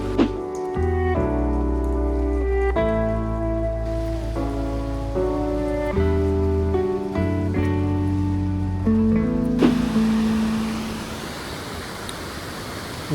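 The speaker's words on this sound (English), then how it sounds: "I wish it wasn't raining." Rain falls steadily by a river in Kyoto, a soft broadband hiss under music that grows clear and dominant once the music fades near the end.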